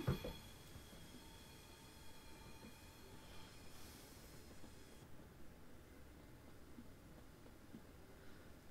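A Class 170 diesel train runs on the Lowestoft to Norwich line in Train Simulator 2020, a faint low rumble of rolling wheels with a few thin squeals, steady and quiet with no talk.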